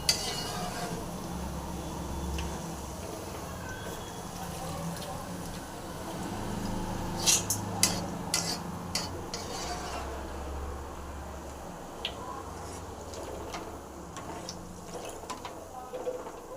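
Kara boondi frying in hot oil gives a faint, steady sizzle while a utensil scrapes and clinks against the pan in scattered sharp taps, with low rumbles underneath.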